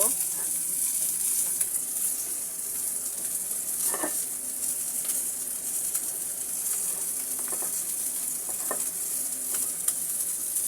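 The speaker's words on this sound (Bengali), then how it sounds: "এদিকে আমার ট্যাংরা মাছগুলো হয়ে গিয়েছে ভাজা" Tengra fish fry in a pan with a steady, continuous sizzle that lasts throughout, with a few brief crackles and spatters standing out. No one speaks.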